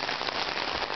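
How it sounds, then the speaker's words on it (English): Heavy rain pours steadily onto surfaces during a street flood in Fullerton, a dense, even roar of countless drops with no pauses, close and loud throughout. "I like the rain and thunder and all that."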